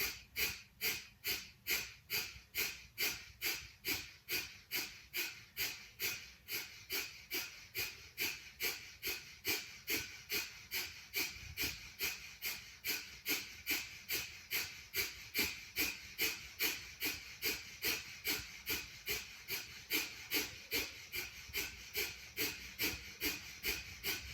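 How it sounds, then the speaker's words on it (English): Slow, deep breaths repeated in an even rhythm during a hatha yoga breathing exercise, each one a soft airy rush close to the ear, continuing alone for a long stretch without talk. "So deep breath in."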